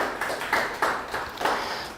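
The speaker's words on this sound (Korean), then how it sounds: "하나님께 영광의 박수를" A church congregation claps in a few loose, rhythmic waves of applause, moderately loud and reverberant, without talk over it.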